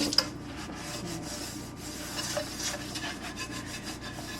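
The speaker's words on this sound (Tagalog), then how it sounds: "Makakailang hugas pa ako dito sa pan na to bago ko siya magamit." A pan is scrubbed during washing, a soft, close rubbing and rasping that runs steadily with small rhythmic scrapes and light knocks.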